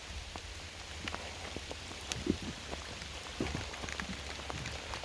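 Rain falls steadily outdoors beside a river, a soft continuous patter with scattered drops striking a surface close by, faint and unbroken with no voices.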